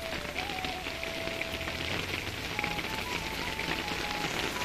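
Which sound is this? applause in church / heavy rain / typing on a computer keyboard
heavy rain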